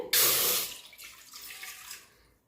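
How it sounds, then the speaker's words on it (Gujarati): A sudden loud gush of water pours into a pot, then thins to a lighter trickle and fades out within a couple of seconds. "તો આપણે તપેલાની અંદર પાણી લઈ લીધું છે"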